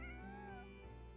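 A cat in the video game Genshin Impact gives a single clear, drawn-out meow with a falling pitch, close and alone.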